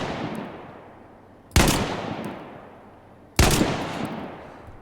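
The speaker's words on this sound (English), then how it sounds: "they added a bunch of new weapon sounds in this update" Two sharp, loud gunshots from a new weapon in the video game DayZ, each a sudden crack followed by a long echoing tail, spaced almost two seconds apart.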